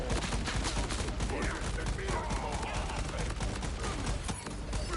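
Rapid turret gunfire in the video game Borderlands 4, a dense, continuous, loud rattle of shots with no break.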